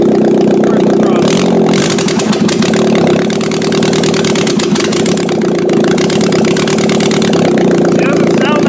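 A demolition derby car engine with no header runs steadily and loudly right after being fired up, a rough continuous idle with a pulsing mid-range drone, close by throughout.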